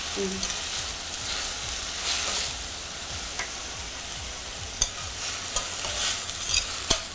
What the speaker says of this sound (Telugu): ఆయిల్ పైకి వచ్చేదాకా ఫ్రై చేయాలి.